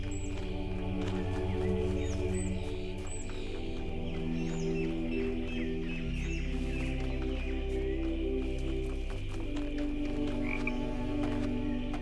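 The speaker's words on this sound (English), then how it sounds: "Red frogs look poisonous." Frogs croak in a dense, continuous chorus in the video game The Talos Principle 2, with layered low pulsing calls and occasional higher chirps, steady and moderately loud with no talk.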